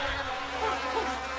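A fat bumblebee boss in the video game Yooka-Laylee drones with a steady, close buzzing hum that wavers slightly in pitch and plays on its own without talk.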